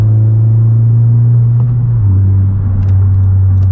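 A 10th-generation Honda Civic engine holding a steady high rev, then dropping slightly partway through and settling into a loud, constant drone with no talking.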